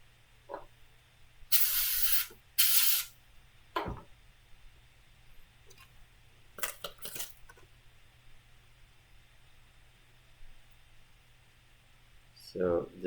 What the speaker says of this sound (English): Let me rinse and clean them up.